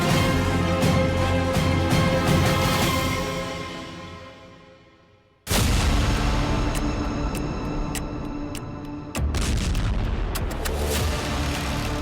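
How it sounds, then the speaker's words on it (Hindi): News footage of an attack on Yemen carries a heavy explosion roar that rumbles and slowly fades, cuts to silence, then another loud blast with a rolling rumble and a second surge near the end. "ये धमाका याद है?"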